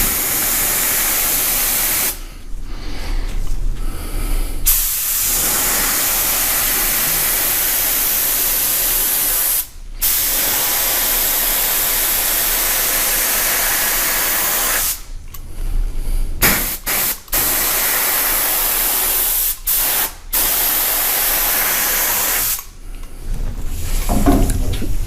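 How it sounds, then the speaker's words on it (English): A spray gun coats quad rails with Cerakote in repeated loud hissing bursts, each several seconds long, separated by short pauses. "turn it at about a 45-degree angle and spray up, and then spray it again from the other angle coming down"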